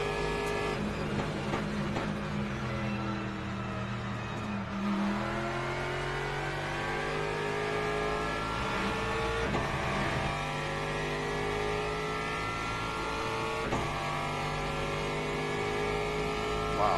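An Aston Martin's engine in a racing video game, revving steadily for the whole stretch, with the pitch climbing and dropping as it shifts through gears, close and continuous with no talking.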